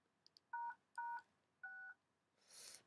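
Touch-tone DTMF dialing over a radio repeater: two short clicks, then three distinct dual-tone beeps in a steady sequence, each about a third of a second, ending in a burst of hissy noise.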